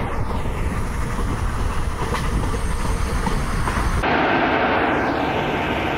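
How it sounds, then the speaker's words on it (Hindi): Steady rumble and rail clatter of an ICF Jan Shatabdi train running at 110 km/h in the Indian Railways Train Simulator game, continuous and loud, with the tone shifting abruptly partway through. "देखो यार अभी भी हम कॉन्स्टेंट एकदम डॉट 110 KMPH की रफ्तार पे चला रहे हैं ट्रेन को"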